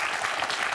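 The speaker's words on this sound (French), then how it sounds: "Applaudissons." Studio audience applause on the French quiz show Questions pour un champion, a brief, steady burst of clapping that fills the whole moment without any voice over it.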